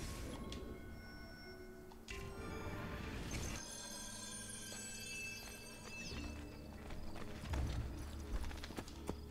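Horse hooves clopping steadily in Assassin's Creed II on Xbox 360, over a busy game soundscape of rattles, tones and clanks, with a whinny-like sound midway; fairly quiet overall.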